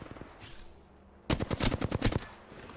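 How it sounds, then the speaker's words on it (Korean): Rapid automatic gunfire in the battle-royale video game Apex Legends on the Storm Point map: a sustained close burst of sharp shots after a quieter lead-in, with no talking. "사격 개시. 적기를 격추했다."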